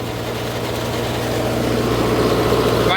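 A Sonalika Tiger 75 CRDi tractor runs steadily while driving a rotavator through its PTO, a continuous low, throbbing diesel drone heard up close without pause.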